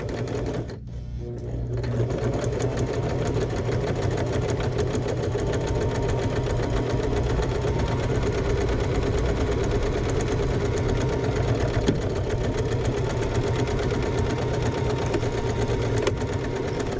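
A sewing machine runs steadily for about fifteen seconds after a short pause, stitching a handbag with backstitching at the start, its motor hum and rapid needle clatter loud and close.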